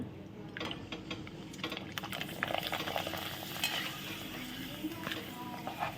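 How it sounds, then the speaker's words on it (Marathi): A ragi (finger millet) papad roasts in a wok, giving a steady soft crackling and faint popping as it puffs up, close and fairly quiet throughout with no talking. "कढईवर फुगलाय नागलीचा पापड"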